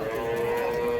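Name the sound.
native bull at a cattle market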